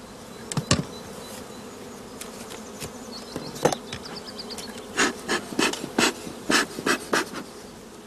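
Honey bees around hives in an apiary beside allotment gardens, a close, continuous buzzing with repeated louder passes as individual bees fly near, rising and falling over a steady background hum.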